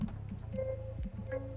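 Cymatics synth key heavily processed with effects, playing a short plucked pattern of repeated low notes with a sustained mid tone and bright transients, steady and close with no voices.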